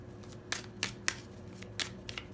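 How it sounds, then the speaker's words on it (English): Romance angel cards being shuffled by hand, giving a series of soft, crisp riffling bursts spaced irregularly over a low background hum, with no talking. "I'm going to shuffle some romance angel cards"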